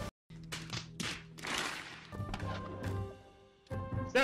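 Cannons fire cannonballs at a ship in a video game naval battle, a string of dull booming thuds and impacts spread across a few seconds with a busy clattering background, fairly close and moderately loud.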